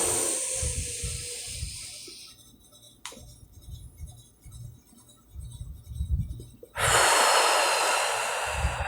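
A person breathing deeply in and out, with long, close, audible exhales and inhales, one slow breath cycle after another, and no talking.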